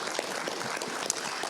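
Audience applause at a citizens' academy class session on fire rescue and sheriff's office services, a brief, steady patter of many hands clapping at moderate loudness.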